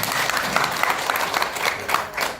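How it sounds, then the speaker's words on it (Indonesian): An audience at a company gathering in Bukittinggi applauds, dense steady clapping filling the whole stretch at an even level without pause. "Tepuk tangan untuk kita semuanya."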